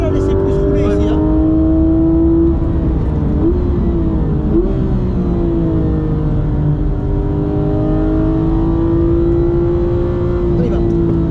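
A Porsche race car accelerates on a circuit, its engine a loud, steady drone held close throughout, the pitch climbing and shifting across gear changes while a voice speaks over it.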